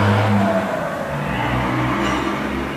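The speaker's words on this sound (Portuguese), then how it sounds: "E só passar esse caminhão aqui." A moving truck for a neighbour's house move rumbles past outside in a steady low engine drone that stays loud and continuous throughout, with no talk over it.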